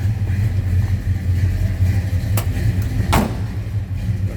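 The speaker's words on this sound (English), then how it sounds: "Nice little rumble coming out of that 350." A 1970 Chevrolet K10 4x4 pickup with a 350 V8 idles with a steady low rumble, close and fairly loud, with a couple of brief sharp clicks over it and no talk.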